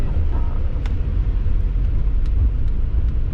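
An old Fiat Panda's engine rumbling from inside the car, a steady loud low drone with a few faint clicks and ticks on top.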